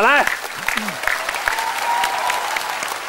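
A studio audience at a televised singing competition breaks into loud sustained applause and cheering, with a voice speaking briefly over the clapping at the start.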